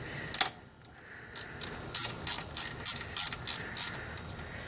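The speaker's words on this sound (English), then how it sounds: "go ahead and get this ratchet on here." A ratchet loosening a bolt on the alternator of a 1999-2004 Ford Mustang, a quick series of about eight close, crisp clicking bursts in steady rhythm after an initial clack.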